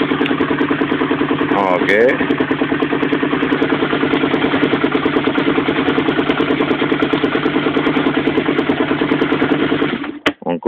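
A motorcycle engine idles steadily with an even, throbbing pulse that holds for about ten seconds before cutting off. A voice speaks briefly over it near the start.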